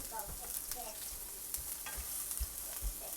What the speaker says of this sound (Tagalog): I put already the garlic and the onion. I saute them